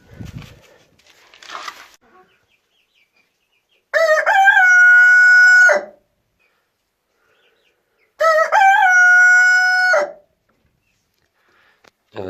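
A rooster crows loudly twice, each long, ringing call lasting about two seconds, separated by quiet, with faint rustling at the start.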